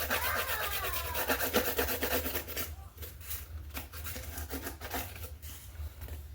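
Paper edges of a small handmade journal with Japanese binding being distressed by rubbing, a close, continuous dry scraping and rasping with rhythmic strokes that turn choppier partway through, and no talking.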